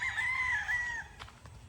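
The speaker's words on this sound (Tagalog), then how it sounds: "Ito yung mga pulit." A rooster crows once, loud and drawn out, among a flock of pullets and brood hens, followed by a few faint clucks, with no talking.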